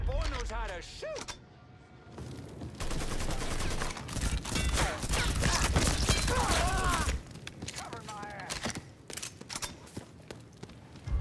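Rapid gunfire in the video game Mafia 3, with bursts of automatic fire and single shots cracking repeatedly over several seconds amid shouting voices, dropping to scattered shots near the end.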